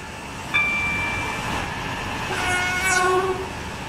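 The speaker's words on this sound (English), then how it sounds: "This train is not meant to have that horn" A train horn sounds on an express train in a Roblox railway video game: a short blast, then a longer one, over a steady rolling rail rumble, with no talking.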